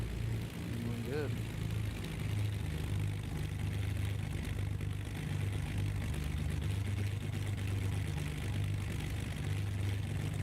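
Twin propeller aircraft engines in the X-Plane 11 flight simulator, a steady loud droning hum that holds evenly throughout, close and continuous with a brief higher whine near the start.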